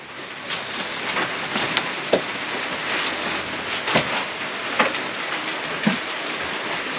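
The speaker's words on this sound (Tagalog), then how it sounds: "Araw-araw na ito na umuulan." Rain falls steadily on a roof, a dense even patter with scattered heavier drops and light knocks, alone without talk.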